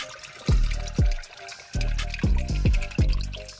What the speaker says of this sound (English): Another nice pour for me.